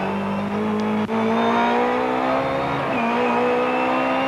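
Touring cars race at a British Touring Car Championship round in 1988, a loud engine note climbing in pitch with a gear change midway, up close and steady.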